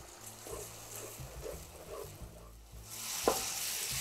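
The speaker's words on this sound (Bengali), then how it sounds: "এখানে আধা বাটি দিয়ে দিচ্ছি পেঁয়াজ" Onion paste goes into a pan of whole spices, cinnamon sticks and cardamom, for egg pulao. A faint bubbling comes first, then a louder sizzle swells as the paste hits the oil, with a sharp clink near the end.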